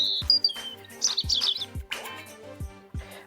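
A European robin sings bright, high twittering phrases in short bursts over a steady low rhythmic thumping in the background.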